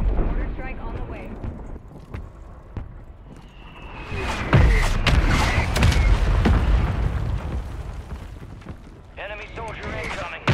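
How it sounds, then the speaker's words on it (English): Mortar strike explosions in Call of Duty Warzone land as heavy booms about midway, followed by rumbling blasts and scattered gunfire, with voices talking before and after. "Mortar strike on the way."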